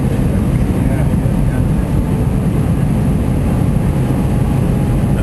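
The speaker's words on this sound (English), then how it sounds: "What Mark's doing now is I'm flying the aeroplane just across to Liverpool." A steady, loud Airbus engine drone fills the whole stretch, a dense low roar like an airliner heard from the cabin, with no pauses.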